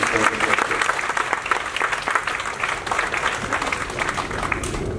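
Audience applause at a stage play performance, steady clapping that holds across the whole stretch with crowd noise underneath, loud and sustained, as a special guest with family is welcomed.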